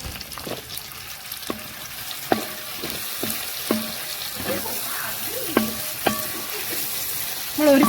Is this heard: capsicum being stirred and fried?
yes